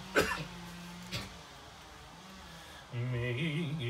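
Two sharp coughs close by, about a second apart, then a man starts singing.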